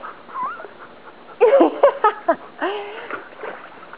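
Anxious dogs whimper beside a home swimming pool, with high whines and short yelps in uneven bursts that grow louder midway, along with faint splashing.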